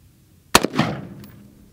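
.223 rifle firing a 55 grain full metal jacket bullet, a single sharp, loud crack followed by a short echoing decay with no other sound.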